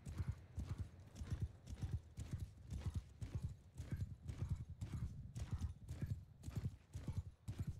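Horse hooves gallop in rhythmic clip-clop beats during a mounted battle in the video game Bannerlord Online, steady and evenly paced, close and fairly quiet.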